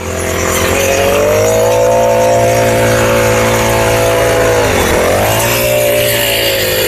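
An Indian Agro automatic soybean weeding machine runs with its small engine held at a steady loud drone close by, dipping briefly in pitch before recovering, with no talk over it.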